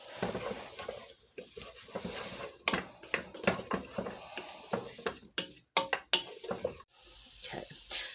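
Soaked soy chunks tipped into a soup pot, giving a run of quick clattering, stirring and sizzling bursts, close and uneven, with a few soft voice sounds between them.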